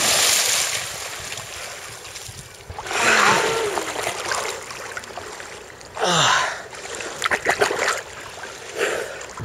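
Someone swims in cold sea water at a beach, with several bursts of loud splashing over a steady wash of surf and wind, and short breathy gasps between the splashes.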